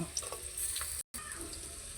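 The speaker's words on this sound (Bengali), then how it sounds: "আমার পেঁয়াজ রসুন প্রায় ভাজা হয়ে আসছে" Chopped onion and garlic fry in a pan, a close crackling sizzle with light stirring scrapes, broken by a brief moment of silence midway, and no one speaking.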